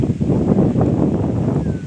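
Strong spring wind blowing hard, a steady loud rumbling buffet with gusty swells across the whole stretch and no talk.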